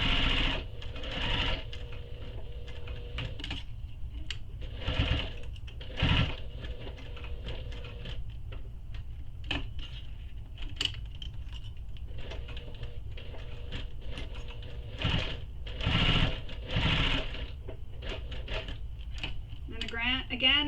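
A home sewing machine stitches across the bottom edge of a belt bag piece in short, repeated bursts, with fabric shuffling and small clicks between runs and a voice talking at times.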